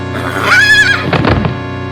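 A horse neighs loudly in a French-language parody of the Zelda game Majora's Mask, a rising, wavering whinny followed by a snorting, fluttering breath, up close over a steady background hum.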